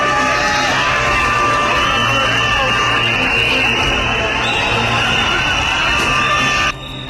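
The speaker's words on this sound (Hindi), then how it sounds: "संसद के बाहर भीड़ और पुलिस में भिड़ंत हो रही है।" Dense, loud crowd roar outside the parliament in New Delhi during a clash with police, a continuous mass of shouting and chatter with whistle-like tones, ending abruptly.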